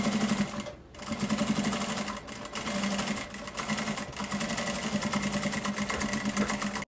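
A sewing machine stitches a bag, running in a fast, steady buzzing whir with a brief pause near the start and a few short breaks, close and fairly loud.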